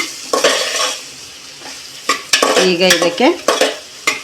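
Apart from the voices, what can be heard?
ground coconut chilli paste sizzling and stirred in pan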